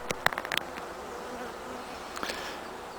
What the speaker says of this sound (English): when the bees are just flying off, they're coming out of the hive very fast